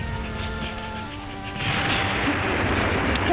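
Heavy bombardment in a wartime scene in Tobruk, a dense, continuous roar of bombs exploding that swells louder partway through, with no clear pauses between blasts.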